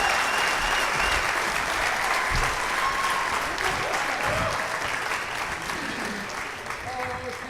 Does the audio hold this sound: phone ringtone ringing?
no